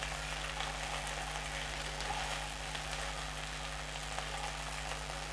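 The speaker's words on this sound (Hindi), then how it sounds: "और इनको उलट पलट करके इनको फ्राई कर देते हैं।" Okra (bhindi) stir-frying in a pan gives a faint, steady sizzle that continues without pause, mixed with a low constant hum in the background and no voices.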